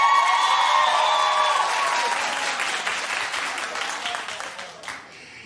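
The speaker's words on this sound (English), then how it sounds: "Clap if you like old Bradley." Studio audience of a daytime talk show claps and cheers loudly, a thick burst that gradually thins and fades out near the end.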